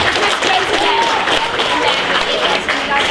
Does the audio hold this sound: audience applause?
yes